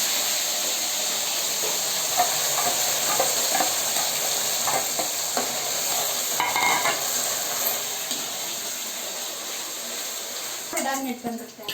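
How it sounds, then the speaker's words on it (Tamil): Mustard, fennel and cumin seeds frying in hot oil for a Tamil fish curry give a close, steady sizzle with a hissy wash and scattered small pops and crackles throughout. "சோம்பு சீரகம் மூணுமே ஆட் பண்ணிக்கிறேன் கடுகு நல்லா பொரிஞ்சு வந்துடுச்சு"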